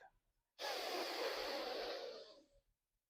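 One long, deep inhalation through the nose during a yoga neck exercise, a steady airy rush lasting about two seconds, close and alone in an otherwise silent room.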